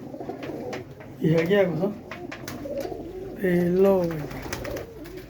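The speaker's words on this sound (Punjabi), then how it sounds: "ਇੱਕ ਤੋਂ ਇੱਕ ਕਬੂਤਰ ਮੂੰਹੋਂ ਬੋਲਦੇ ਨੇ" Two distinct rolling coos from pigeons kept for sale, close and fairly loud, come between bits of a man's speech.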